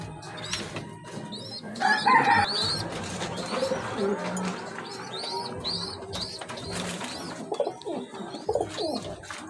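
Racer pigeons coo repeatedly at close range, soft throaty warbles recurring across the stretch alongside other bird and fowl clucks in the background, with no talking.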